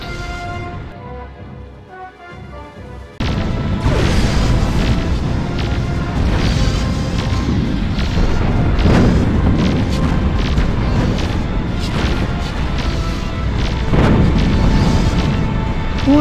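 Incoming missiles explode against ships in the space strategy game Nexus: The Jupiter Incident, a loud continuous barrage of deep booms and crashing bursts that begins abruptly after a quieter stretch and rolls on steadily to the end.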